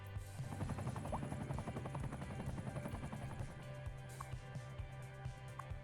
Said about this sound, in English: Hey, we got the fire helicopter, though.